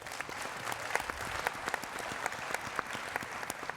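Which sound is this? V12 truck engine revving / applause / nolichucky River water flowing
applause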